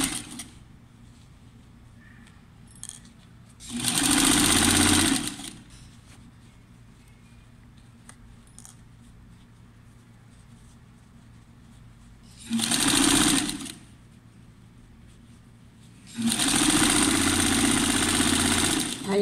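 A sewing machine stitches a blouse seam with a 1 cm allowance, from armhole toward neckline, running in three loud, steady bursts of whirring separated by quieter pauses, close to the mic.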